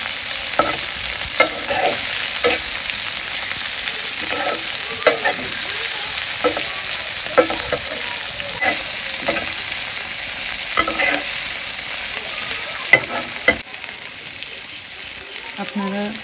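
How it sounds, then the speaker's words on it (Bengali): Chopped onions frying in a pan over raised heat with salt, a dense steady sizzle punctuated by regular scraping stirs, close and loud, with a voice talking at points. "তারপরে চুলোর আঁচটা বাড়িয়ে দিয়ে পেঁয়াজ কুচিগুলোকে ভাজবেন।"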